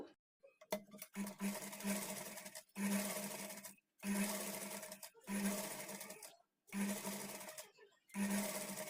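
A sewing machine stitches patchwork blouse fabric for a back-neck design, running close and loud in about six steady bursts separated by brief pauses.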